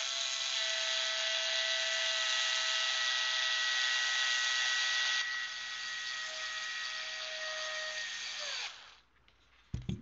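A power screwdriver drives a screw into a 3D-printed humanoid robot leg, a steady high whine that drops in pitch partway through as it tightens, then cuts off, followed by a couple of small clicks.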